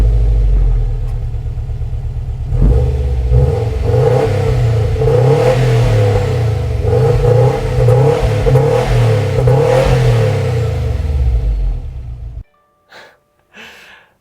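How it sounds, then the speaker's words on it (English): A 2021 Subaru WRX STI accelerates on the road, its engine rising loud and close through a sustained rev with a deep, pulsing rumble before cutting off near the end, followed by a few faint clunks. "So let's take this car out on the road,"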